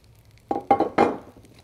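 Green onion stirred into sizzling shrimp fried rice: three quick scraping, clinking strokes of a utensil in a hot pan, close and fairly loud, over a faint background hiss.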